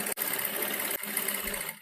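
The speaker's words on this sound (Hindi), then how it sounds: "इसके बाद मैं यहाँ से यहाँ तक सिलाई लगाऊंगी।" A sewing machine stitches a shawl collar in one steady, fast whirring run, close and even, with a brief pause near the start and another just before the end.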